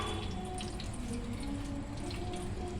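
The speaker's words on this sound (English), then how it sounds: "Here you can see the water goes from the hole." Water runs steadily out of a hole in a filled container during a light-bending science demonstration, a continuous close trickle and splash with small drips and no talk.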